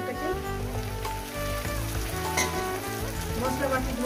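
Masala spice paste hits hot oil with fried onions in a pan for a spicy katla fish curry, giving a steady close sizzle and crackle that holds through the whole stretch.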